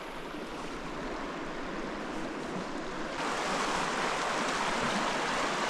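River water rushes continuously at a hiking trail crossing on the South Fork of the San Joaquin River headwaters, a steady broadband wash with no speech, growing a little louder partway through.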